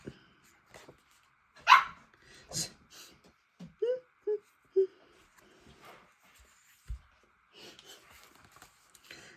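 A dog gives scattered barks mixed with whining and whimpering at moderate distance, with quiet gaps and faint background noise.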